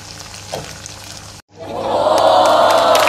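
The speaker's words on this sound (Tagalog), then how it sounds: "maging maluto sa sariling oil niya na at magiging crispy" Shredded chicken adobo flakes frying until crisp in their own oil, a quiet crackle that cuts out briefly, then swells into a loud, dense, steady sizzle up close.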